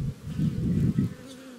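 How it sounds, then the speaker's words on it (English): Package honey bees just installed buzzing densely inside a hive, a close, low droning hum that swells and dips slightly without pause. "all the bees that we've shook in there are now all inside"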